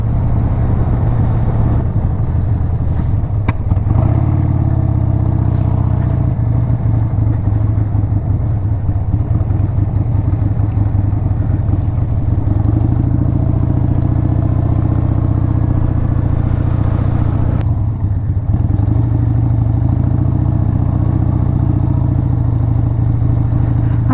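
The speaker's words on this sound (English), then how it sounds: "we'll take it for a quick ride down to St Mary's." A Harley-Davidson Sportster 1200 motorcycle is ridden on the road, its engine giving a loud, continuous, throbbing rumble with small shifts in pitch and a few faint clicks and knocks along the way.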